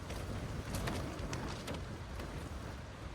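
Steady broadband wind roar fills the interior of a tent pitched in windy conditions, with gusty swells and soft flapping fabric pops, continuous and fairly loud, no talking.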